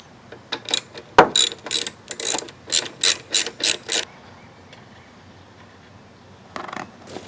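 A ratchet wrench turning strut mount nuts on a 2008 Hyundai Elantra 2.0L, heard as a dense run of quick, close mechanical clicking bursts for about three seconds, then quiet, then a short final burst.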